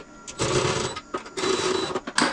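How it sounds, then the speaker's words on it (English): A power screwdriver tightens screws on a DIY battery box, with two longer whirring bursts and a short final one, close and fairly loud, separated by brief pauses. "And I'm tightening all the screws now all the way in and see what the cells do."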